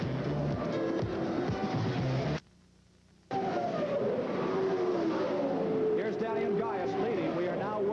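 USAC race cars roar around the Milwaukee oval during the Rex Mays Classic, engines whining and shifting pitch as they pass, with a brief dropout in the middle and a commentator talking over the noise.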